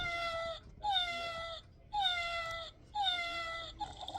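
A cat meows four times in a steady rhythm, each call clear and close with a bright falling tone, separated by short quiet gaps.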